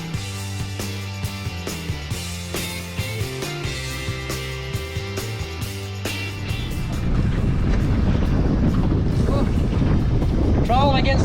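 On Lake St Clair, a bass boat trolls home into a strong southerly wind, first with rhythmic motor and hull knocking, then buffeted by steady loud wind roar across the microphone.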